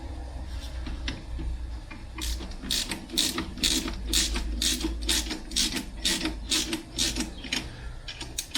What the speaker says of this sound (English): I'm not torquing these down yet, I'm just getting the bolts started